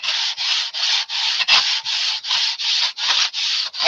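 Steady rhythmic sanding of a tapered wooden part, about a dozen even back-and-forth strokes, close and loud with no talking.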